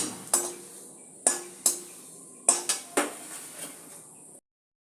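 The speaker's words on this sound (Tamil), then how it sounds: "அதையும் பொறிச்சு எடுத்துக்கலாம்" Tamarind being dry-roasted in a pan for idli podi, heard as a series of sharp metallic clinks and scrapes of a spoon against the pan, about eight close knocks spread unevenly with quiet between them.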